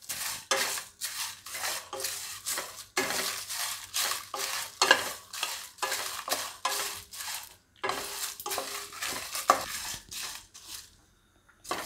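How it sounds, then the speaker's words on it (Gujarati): Red chillies and bay leaves sizzle while roasting in a pan, with a spoon scraping and clinking against the metal in steady repeated strokes, close and moderately quiet with no talking. "હવે આપણે એમાં લાલ મરચાં નાખી દઈશું. અને તેજપત્તા નાખી દઉં."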